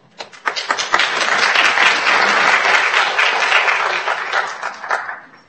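An audience at an all-county school concert breaks into applause after a piece, scattered claps building quickly into full, steady clapping that holds for several seconds before starting to fade.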